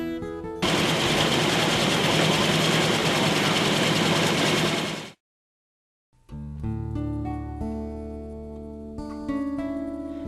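An SMT component placement machine runs with a loud, dense, steady mechanical whirring and rattling for about four seconds, then cuts off abruptly into silence before tonal music begins.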